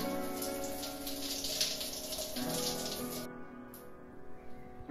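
A home shower runs, its steady spray hissing and splattering nearby before the flow shifts and thins toward the end.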